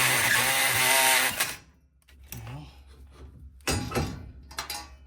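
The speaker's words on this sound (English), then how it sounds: "you do have to use a 9/16 drill bit" An F150 upper spindle is drilled out with a 9/16 drill bit: a loud, close grinding whine for about a second and a half, then quieter clanks and short bursts of tool noise.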